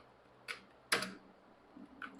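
A few separate keystrokes on a computer keyboard while writing CSS code: a soft tap, a louder clack, then lighter taps, spaced irregularly with brief quiet between them.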